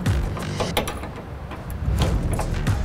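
A washer and nut are run onto a U-bolt on a truck frame while fitting a 62-gallon replacement fuel tank under a 2001-10 GM Duramax 6.6L, giving close metallic scrapes, clicks and ratcheting rasps in short bursts.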